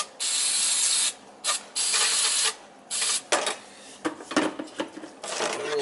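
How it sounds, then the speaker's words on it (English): Aerosol can of carburetor cleaner sprayed on an oil-fired hot water heater, a series of sharp close hissing bursts of varying length, some long and sustained, others quick and clipped, separated by short pauses. "My carburetor cleaner I use."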